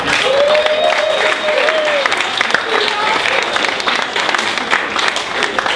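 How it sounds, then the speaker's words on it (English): Applause from a comedy show audience on a Friday night at an improv theater in Houston, a steady dense wash of clapping filling the whole stretch, with faint voices and whoops mixed in. "give yourselves a round of applause real quick"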